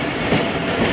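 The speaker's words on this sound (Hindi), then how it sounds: "दोस्तों ट्रेन फिर स्लो हो गई है" Ravi Express passenger train travelling from Lahore toward Nankana, slowing near a railway crossing. A loud, continuous rumble of wheels and carriage noise fills the space close by, with faint rhythmic clatter.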